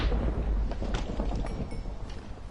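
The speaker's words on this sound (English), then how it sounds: "Stupid thunder." Thunder in the Minecraft video game, a loud, deep, sustained rumble that fills the whole moment with rolling low crackle.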